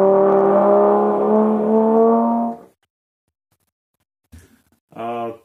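An instrumental playing technique from Sandström's Motorbike Concerto imitates a motorbike engine, a loud buzzing growl sustained for about two and a half seconds, then silence, a brief sputter and a shorter revving burst.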